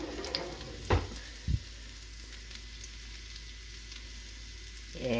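Garlic and herbs sizzle steadily in a frying pan while wild sockeye salmon is being cooked, a soft continuous crackle with a couple of brief stirring clunks near the start and a louder burst at the end.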